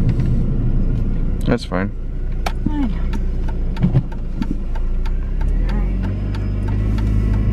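A Mini's engine rumbles as the car picks up speed, a steady mid-pitched drone that builds gradually from inside the cabin, with brief talk and a few clicks over it.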